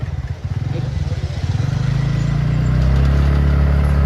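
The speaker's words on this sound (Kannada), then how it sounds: "ನಾವು ಮತ್ತೆ ಬೈಕ್ ಮೇಲೆ ಹೋಗ್ತಾ ಇದ್ದೀವಿ" Motorbike engine running steadily as riders travel off after lunch, a loud close drone that thickens and grows fuller over the last couple of seconds, with no talking.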